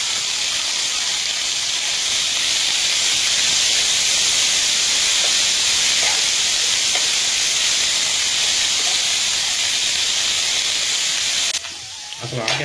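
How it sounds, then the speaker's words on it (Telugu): Fenugreek leaves fry in oil for a methi chutney, giving a loud, steady sizzling hiss that runs unbroken for most of the clip before dropping away near the end. "ఆకుని బాగా నూనెలో అయితే మగ్గించుకోవాలి, బాగా మెత్తబడిపోవాలి కూడా."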